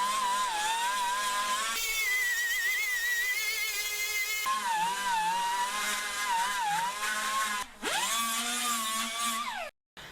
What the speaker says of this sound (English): Gonna get out the Scotch-Brite next and just give it a nice fine-tuned polish.